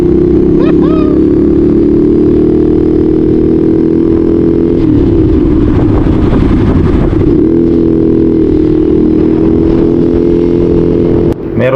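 Ducati Scrambler motorcycle riding on Pirelli MT60 RS semi-off-road tires, its engine droning steadily and loud throughout with wind and road rumble, a brief surge of rougher mechanical noise in the middle.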